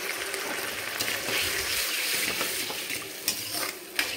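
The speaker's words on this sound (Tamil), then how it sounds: "புளி நல்லா கொதிச்சு வருதுங்க." Tamarind water with ginger, salt and turmeric bubbling and sizzling in a cooking pot, a steady close simmer with occasional stirring clinks and scrapes, no talking.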